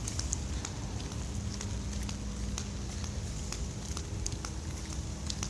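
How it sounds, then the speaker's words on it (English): Light rain pattering steadily on an umbrella during a morning walk near Three Sisters Lake and wood, a soft constant patter with scattered sharper drops close overhead. "it's raining a bit"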